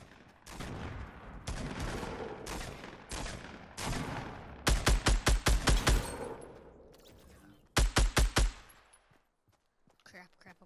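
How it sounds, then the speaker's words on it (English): Rapid bursts of Fortnite gunfire, with dense volleys and sharp repeated shots in quick clusters, loud and close, then fading to quiet. "And there's gunshots going on"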